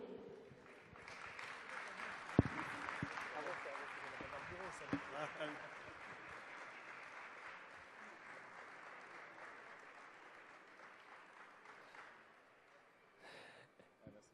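Audience applause at an awards gathering fills the room, starting faint and building into sustained, even clapping that slowly tapers off, with a few louder individual claps near the start.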